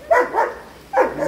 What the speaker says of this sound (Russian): О, какие собаки, хулиганки.